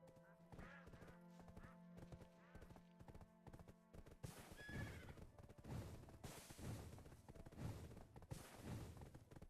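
Horse hooves clop in a steady rhythm in the Black Desert Online video game, with a neigh partway through; the hoofbeats grow louder and heavier after a few seconds.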